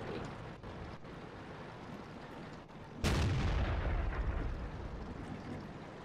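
A tank cannon booms once in World of Tanks, a sudden loud blast about halfway through that rolls off into a sustained rumble over constant battle noise.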